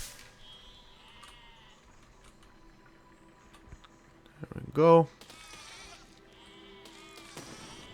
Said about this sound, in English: See? The sheep.